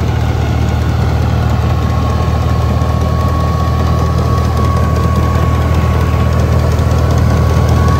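A New Holland 3630 Turbo Super tractor with a 2931 cc turbocharged engine and rotary pump runs steadily while driving a reaper, giving a continuous loud idling rumble with a low throb and a faint high whine, with no talk.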